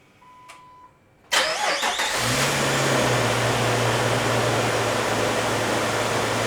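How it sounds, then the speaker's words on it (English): An LJ car engine with a faulty PCM cranks with a short whine and catches after sitting about a week and a half, settling quickly into a steady, loud, even idle heard up close with no voices. "Fired right up after sitting for, I don't know, a week and a half or so."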